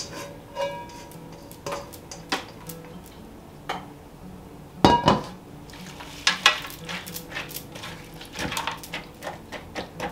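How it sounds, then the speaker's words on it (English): A spoon stirs a stuffed pepper casserole mixture in a pan, giving sparse, light scrapes and clinks with a few louder knocks against the pan, close and fairly quiet. "we'll just kind of stir it together in the pan"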